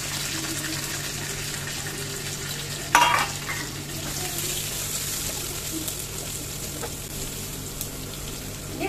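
Fried rice frying in a pan on a home stove, giving a steady sizzle with scraping and stirring throughout, plus a brief louder clatter near the start, with no talking.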